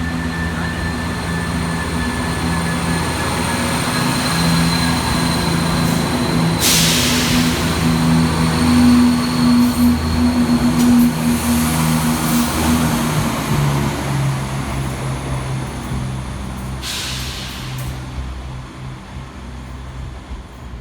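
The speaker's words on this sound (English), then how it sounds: "we will see 170 454 depart with the 12:35 Northern" A Northern class 170 diesel unit, 170 454, pulls out of Harrogate station with a steady, loud engine drone and rumble, rising slightly as it departs, with brief hissing bursts over the top.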